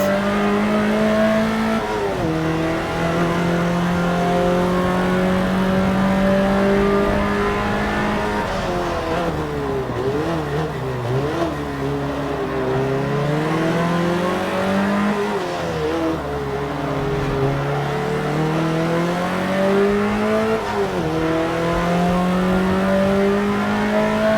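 A cool car's engine revs repeatedly, rising and falling in pitch with sustained throaty tones, close and loud for the whole stretch, with no talking.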